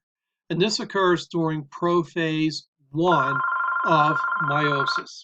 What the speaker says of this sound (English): I apologize for that little phone call there.